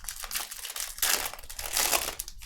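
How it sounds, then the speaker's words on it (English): A plastic bag being handled, crinkling and rustling in loud bursts for a couple of seconds, with no talking. "I'm going to put it in a plastic bag"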